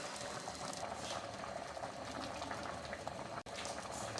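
Kathiawari chole simmer in a pan, giving a soft, continuous bubbling that holds at a low, even level throughout, broken by one brief dropout, with no talking.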